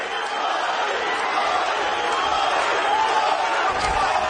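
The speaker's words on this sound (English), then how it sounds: "You hear the Tajikistan crowd chanting, Loik, Loik." A Tajik crowd at a PFL MMA final chants a fighter's name, a dense, continuous roar of many voices filling the arena, steady and loud throughout with no clear individual words standing out.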